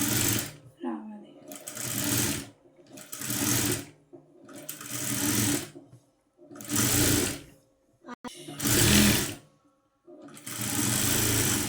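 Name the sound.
sewing machine stitching cloth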